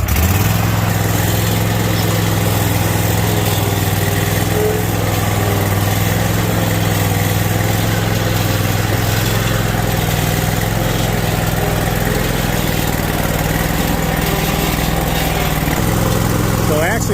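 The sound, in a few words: lawn mower engine running while mowing a lawn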